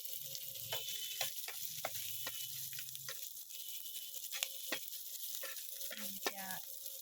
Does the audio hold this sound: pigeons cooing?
no